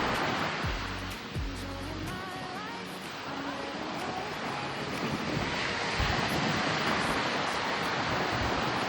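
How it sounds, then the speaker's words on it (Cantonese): Surf rolls and crashes onto a beach in Perth, a steady broadband wash of breaking waves mixed with wind buffeting the microphone, with a brief low rumble near the start. "一個浪冚埋嚟咯"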